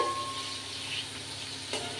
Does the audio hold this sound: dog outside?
no